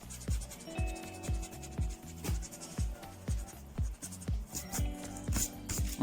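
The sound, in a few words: erasing writing on a board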